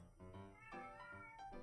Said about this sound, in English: I'm never sure if you can actually hear my cat